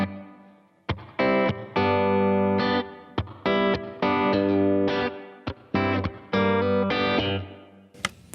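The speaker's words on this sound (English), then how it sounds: "A room reverb is like putting your sound in a room" An electric guitar with a natural room reverb plays a series of sustained chords and notes. The phrases are separated by short breaks, the tone is loud and close, and each note carries a soft, roomy tail.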